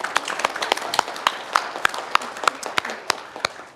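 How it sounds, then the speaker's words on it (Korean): Applause for a council member at a policy forum on long-term care workers, a room of people clapping steadily with distinct sharp claps, fairly close and continuous with no speech over it. "우리 박미정 의원에게 먼저 큰 박수 한번 보내주세요."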